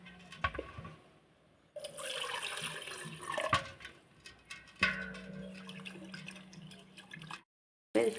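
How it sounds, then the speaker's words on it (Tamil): Water splashes and pours in uneven bursts, with gurgling and trickling as something is rinsed nearby, then a brief silence. "திரும்பவும் தண்ணி ஊற்றி கழுவிக்கணும்"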